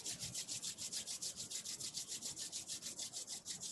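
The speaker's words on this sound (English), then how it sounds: "And then rub your hands together" Palms rubbing together in a steady, fast back-and-forth rhythm during a slow, low-paced movement session, a close, soft, dry swishing repeated evenly about six times a second with no talking.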